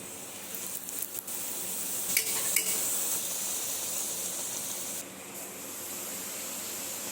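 Luchi, a puffed Bengali fried bread, frying in hot oil as a breakfast dish, giving a steady broadband sizzle throughout with a few brief crackly bursts early on and a short dip near the five-second mark.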